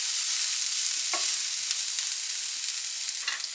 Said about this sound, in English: you do want to stir it around to make sure that horrible floury taste is cooked out of